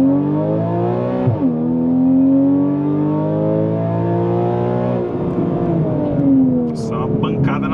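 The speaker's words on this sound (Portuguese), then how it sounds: "Launch control ativado." A Porsche Cayman S 3.4 with a straight-through exhaust launches hard under launch control, its engine revving in rising sweeps through several quick gear changes, loud and close from inside the cabin, with brief voices near the end.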